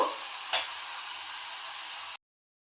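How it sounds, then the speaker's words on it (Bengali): Chicken frying in a pan with a steady broadband sizzle, one sharp clack of a utensil early on, then the sound cuts off abruptly. "দেখো চিকেনটাকে আমি কিরকম করে কষাচ্ছি"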